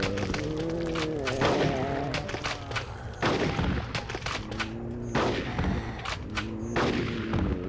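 Video game gunfire in Conker's Bad Fur Day, repeated heavy shots and booming bursts thudding steadily throughout, loud and continuous with no talk.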